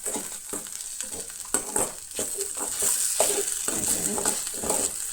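Sabudana khichdi being stirred in a pan as it cooks, a steady soft scraping and sizzling with repeated spoon strokes at close range, no talking.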